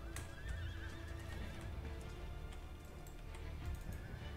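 Cavalry horses neighing and whinnying amid the clatter of hooves on an Empire: Total War battlefield, quiet and somewhat distant, with shrill whinnies rising over a busy low din of battle.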